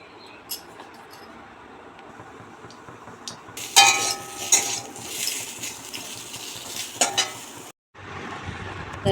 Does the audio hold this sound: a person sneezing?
no